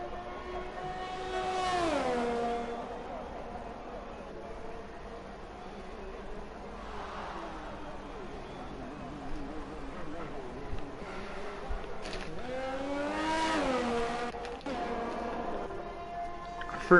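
F1-style race cars in a racing video game rush past on the straight in Canada, each rising and falling engine whine sweeping by, under steady commentary.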